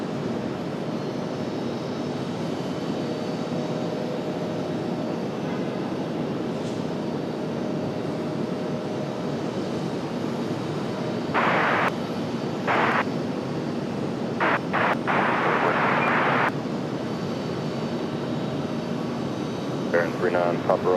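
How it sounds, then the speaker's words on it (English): A Frontier airliner departing from RDU airport in Raleigh, a steady loud jet engine roar building through the takeoff roll, with bursts of radio chatter from the control tower breaking in over it. "Got Frontier up for departure now."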